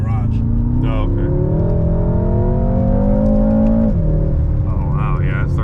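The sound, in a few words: Stage 1 tuned BMW M6 F12 accelerating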